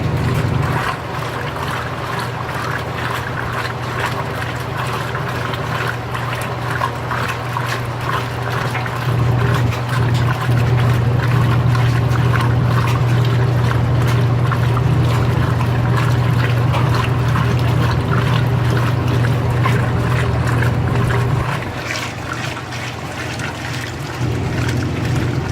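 A 2017 Speed Queen washer agitating a load of jeans sends water splashing and churning. The wash is steady and close, and a low drive hum swells through the middle stretch. No one speaks.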